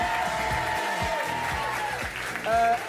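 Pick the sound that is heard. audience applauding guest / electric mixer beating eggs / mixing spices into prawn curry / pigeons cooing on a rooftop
audience applauding guest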